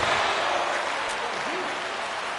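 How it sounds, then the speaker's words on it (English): Home crowd roars continuously in the NHL 23 hockey video game, a dense, loud wash of cheering that holds steady from start to finish. "the home crowd is loving this"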